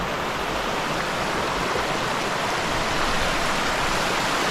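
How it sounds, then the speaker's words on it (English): A small waterfall in a creek inside an abandoned tunnel rushes in a steady, dense wash of falling water, close and continuous with no other sounds. "We got a little waterfall right here."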